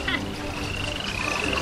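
Frog croaking in a rainy-season scene of a children's story, a raspy call heard near and fairly loud over a steady background wash.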